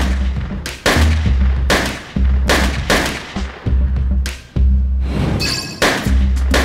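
A rapid, uneven run of loud gunshots fills a university shooting team competition, with about a dozen sharp reports close together, some nearly overlapping. Each has a heavy low boom and a short ringing tail. No voices are heard.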